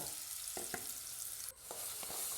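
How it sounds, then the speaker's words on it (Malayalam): Soft scraping and clinking of a spoon stirring chopped onion in a pot over a low sizzle, a few distinct knocks. "എന്നിട്ട് ഇളക്കി യോജിപ്പിക്കാം."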